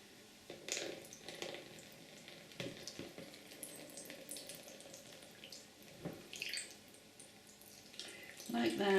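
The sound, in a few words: coffee being poured out for dyeing paper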